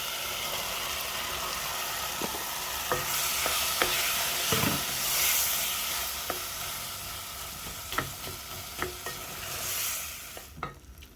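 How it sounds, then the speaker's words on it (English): Beans going into a simmering pot of thick Kenyan bean stew, with a steady soft sizzle and scattered spoon scrapes and knocks as it is stirred, close and moderately quiet. "This is ready, so I'm gonna go in with our beans."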